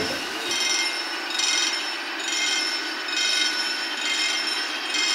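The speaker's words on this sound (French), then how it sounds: "le premier tram électrique de la CFVE, qui roule tous les jours" A 1907 historic electric tram runs on its rails in Saint-Étienne, giving a steady metallic rolling hum with bright wheel squeal that swells and fades in regular pulses, heard alone.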